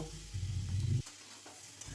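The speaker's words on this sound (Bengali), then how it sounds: "এবারে কড়াইশুঁটিগুলো দিয়ে ভালো করে নেড়ে নেব" Potatoes and green peas fry in a pan while being stirred, a close, soft sizzle with a low scraping rub that stops sharply partway, then resumes.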